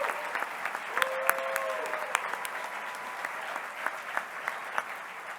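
Sustained applause fills a room at an awards luncheon for parks and recreation honorees, a steady even clatter of many hands with occasional sharper claps standing out, continuing throughout.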